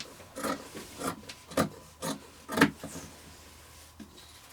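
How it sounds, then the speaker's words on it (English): Scissors cut through fabric taken from a wedding dress, giving a series of close, rasping snips and slides in an uneven rhythm of about six strokes, with no talking. "So I'm going to cut out 4 different one of these on the fold."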